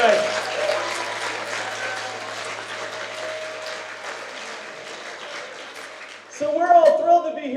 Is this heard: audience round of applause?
yes